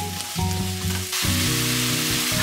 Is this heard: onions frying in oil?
yes